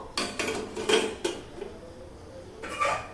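A bowl is set inside a cooker on a gas stove and covered, producing a few close, sharp clinks and clatters of metal and dishware separated by short pauses.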